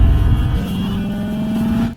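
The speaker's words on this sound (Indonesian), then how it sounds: "Strange pun berangkat dengan mengendarai mobil Tamiya-nya." A car pulls away, its engine a steady low drone with a rising harmonic as it gathers speed, loud and close for a couple of seconds before cutting off abruptly.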